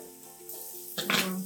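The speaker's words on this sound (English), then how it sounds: "You can hear it sizzling now." Green capsicum and chili flakes hitting a hot frying pan sizzle with a sudden loud burst, over a soft background of steady tones.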